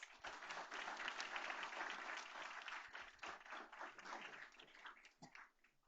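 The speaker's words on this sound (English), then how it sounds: "Let's give all 47 of these students a big round of applause." A school board meeting audience applauds 47 AP Scholar students: dense, steady clapping from many hands fills the room for several seconds, then thins and tapers off at the end.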